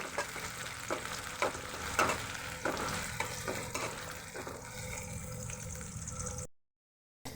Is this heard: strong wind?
no